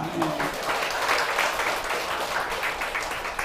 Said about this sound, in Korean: 다음에 우리 박수 한번 칩시다